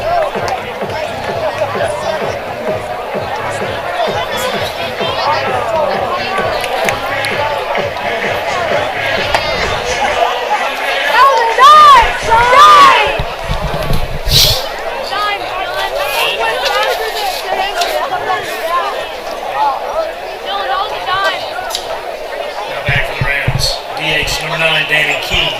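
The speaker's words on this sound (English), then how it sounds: "Get an idea of the crowd" Crowd noise at a 5A high school baseball area playoff game, a steady murmur of chatter and babble from the stands with occasional louder shouts and a whistle-like call partway through.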